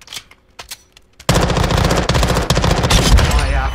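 Rapid automatic fire from an MPX PCC in Call of Duty Modern Warfare II bursts in loud and sustained after a second of quieter sounds, a dense rattling stream of shots running to the end.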